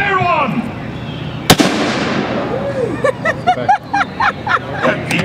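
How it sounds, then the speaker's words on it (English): Cannon firing aboard the Sailing Ship Columbia, a tall-ship replica: one sharp, loud boom partway through, surrounded by crowd noise and voices talking and calling out. "Big ready to fire one. Fire one!"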